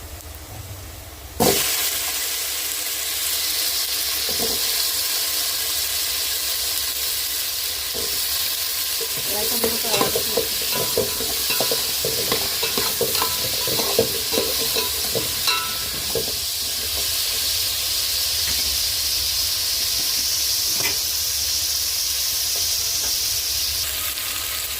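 Onions sauté with a steady, close sizzle for drumstick sambar, while a spoon stirs the pan in scraping bursts, loudest midway through.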